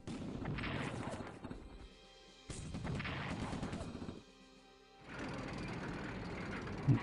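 Tanks attacking an army in the WW2 strategy game Strategic Command WW2: three bursts of heavy artillery and gunfire booms, each lasting about two seconds, separated by brief gaps, moderately loud.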